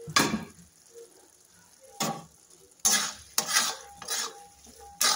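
Bottle gourd curry with cumin powder, a little sugar and coriander leaves being stirred in a pan, giving a few separate scraping, clinking strokes spaced across the moment, close and fairly crisp, with quiet pauses between.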